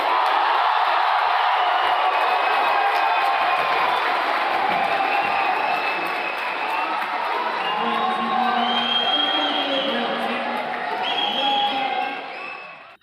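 A packed stadium crowd at the India Open badminton tournament roars and cheers in a sustained wall of noise. Shouted voices and chant-like calls rise through the din before it fades at the end.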